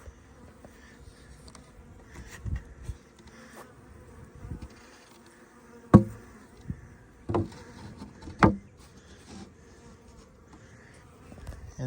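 Honeybees rescued from a tree hive, being moved into a hive box with a shim and inner cover, buzzing in a low steady drone with scattered knocks and bumps of handling equipment throughout.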